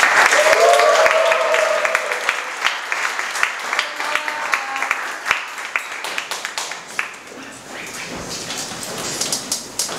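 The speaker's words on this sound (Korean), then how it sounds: "같이 큰 환호성과 박수로 모시도록 하겠습니다." A church youth-service crowd cheers and claps to welcome a guest pastor, with loud whoops over dense applause at first that thins to scattered, crackling claps.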